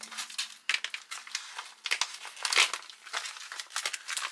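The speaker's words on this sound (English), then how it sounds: "this is a very sturdy plastic bag" Continuous close crinkling and rustling of a sturdy plastic bag from a French emergency ration, irregular crackles rising and falling throughout with no voices.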